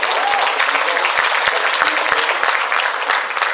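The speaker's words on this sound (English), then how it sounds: "So a huge applause for you guys for actually listening to feedback." A crowd gives loud, sustained applause at a theme-park Halloween event announcement, dense clapping with a few sharper individual claps standing out.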